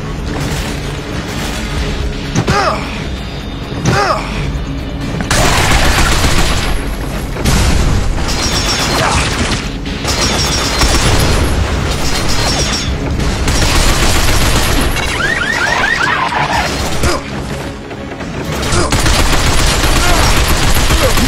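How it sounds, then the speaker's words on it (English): Dense, loud machine gun fire and heavy booming explosions from the video game Binary Domain, sustained bursts of rapid shots with a voice shouting faintly beneath the barrage. "Watch out for that machine gun fire!"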